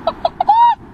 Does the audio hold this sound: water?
no